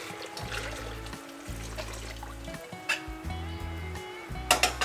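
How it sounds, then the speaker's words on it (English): Boiling water poured into a canner full of apricot jam jars, a steady splashing trickle over a rumbling low hum, with a few sharper splashes near the end. "if you have to add some more boiling water"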